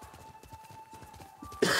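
Rapid hoofbeats of the horse Kage being ridden in the video game Ghost of Tsushima, a quick galloping patter that ends in a sudden burst of noise.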